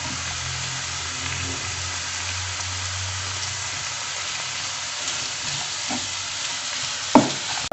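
Peas, tomato and spring onion sautéing in a pan give a dense, even sizzle up close, with soft stirring scrapes and a sharp clink of a utensil near the end.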